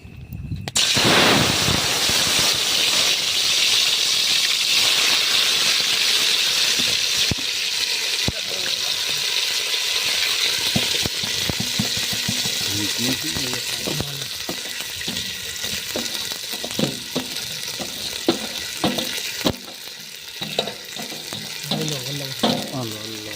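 Gunda leaves hit hot oil with a sudden loud sizzle that settles into steady frying, punctuated by clinks and scrapes of stirring, close and continuous.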